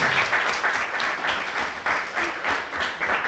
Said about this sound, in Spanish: Un fuerte aplauso para nuestros 3 panelistas.